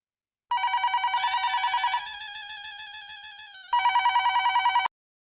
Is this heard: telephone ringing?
yes